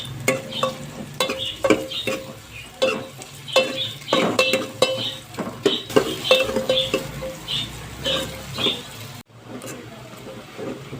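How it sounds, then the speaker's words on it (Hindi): Onions fry in half a cup of oil for a kofta curry, with a steady sizzle under repeated scraping and clinking of a spoon stirring against the pot, close and fairly loud. "इसमें ऑयल डाल दूंगी आधा कप और ये प्याज डाल दूंगी।"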